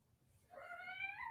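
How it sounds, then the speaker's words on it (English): A cat gives one drawn-out, plaintive meow that rises and wavers, faint against a quiet background. "The cat's going to sit there and cry, isn't she?"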